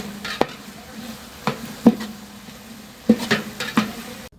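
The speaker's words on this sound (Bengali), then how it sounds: "মশলাটা ফাইন করে কষিয়ে নিচ্ছি" Spice masala for an egg curry is cooked down in a pan with a soft background sizzle, punctuated by several sharp spoon scrapes and taps at irregular intervals.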